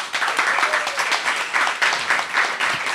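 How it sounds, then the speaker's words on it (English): A loud round of applause rises from the audience at a Bhagavad Katha discourse, with dense, steady clapping in rolling waves that fill the hall. "Give him a big round of applause."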